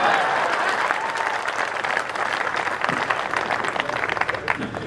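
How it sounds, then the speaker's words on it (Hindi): A village audience at a comedy poetry show in Chomu breaks into sustained applause, dense clapping with crowd murmur and some voices, rising slightly toward the end. "इस पे ताली बजाओ रे"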